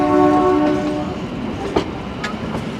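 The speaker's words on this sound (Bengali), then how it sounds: "ছেড়ে দিল কিন্তু আমাদের টয় ট্রেন" The Kalka–Shimla toy train departs Kalka station, opening with a sustained horn blast over rolling rail noise, then steady rumbling and faint clacks as it moves off, close and loud with no talking.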